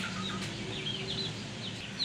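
Roosters grown from chicks about 28 days old cluck and call on a poultry farm, with several birds overlapping under a steady background hum, close and moderately loud.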